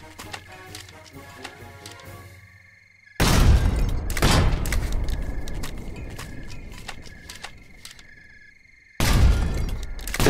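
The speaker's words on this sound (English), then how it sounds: "Okay, all guns fire." Artillery guns in the game Collie artillery fire in loud, booming volleys, with heavy blasts at about three, four and nine seconds followed by long rumbling decay and scattered debris, and faint ticking in the quieter opening.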